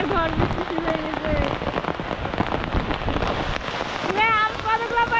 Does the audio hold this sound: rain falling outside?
yes